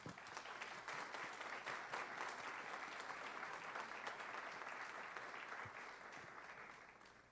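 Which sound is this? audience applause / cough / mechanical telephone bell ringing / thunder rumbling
audience applause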